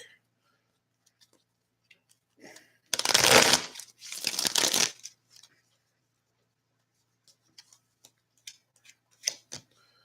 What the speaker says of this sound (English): Let's shuffle the deck real quick.